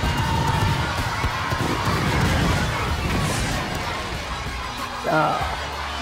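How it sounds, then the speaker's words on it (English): A WWE wrestling arena crowd cheers and roars steadily throughout, a dense continuous wall of noise with a brief louder swell near the end. "Crowd going crazy for this."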